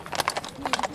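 Hooves of a harness horse clip-clop in a steady run of hoofbeats at an outdoor harness horse parade in Ardingly, fairly close and clear, with faint voices in the background.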